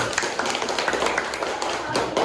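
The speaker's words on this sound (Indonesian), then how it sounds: "Tepuk tangan untuk kelompok 4." A classroom of students claps for a presenting group with a short, uneven patter of hands from a modest number of people, close and fairly loud.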